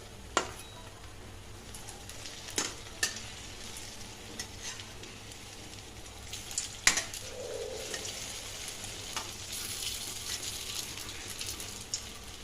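Lentil fritters for dahi vada fry in a pan of hot oil with a steady, fine sizzle. Occasional sharp clicks and scrapes of stirring break through, and no one talks.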